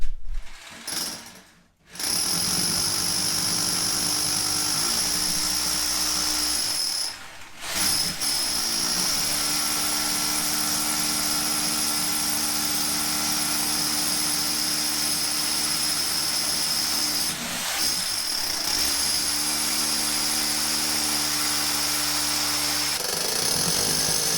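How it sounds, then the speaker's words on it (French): Power drill boring steadily through a garage wall, a loud continuous whine and grind that holds for long stretches with a few brief pauses and restarts. "on passe de l'autre côté, on perce et on regarde où est-ce que ça tombe."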